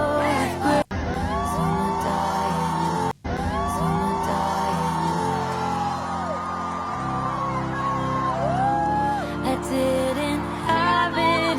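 A concert crowd cheers, with loud whoops, yells and shouts rising over steady music throughout.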